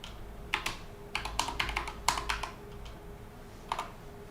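Keys tapped in short irregular bursts on a computer keyboard during Linux work, a few close clicks clustered together then a final pair after a pause, with no talk.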